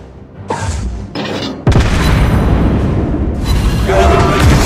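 Naval shell exploding on a target in World of Warships Blitz, a sudden heavy boom that cuts in sharply after a couple of brief rumbles, followed by a loud, rolling roar that lingers.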